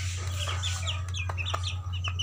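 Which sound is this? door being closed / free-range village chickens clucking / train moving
free-range village chickens clucking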